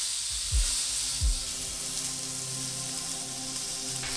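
Tuna seasoned with salt and pepper sizzles steadily on a hot grill, a close, continuous frying hiss with two brief low thumps near the start and no talk.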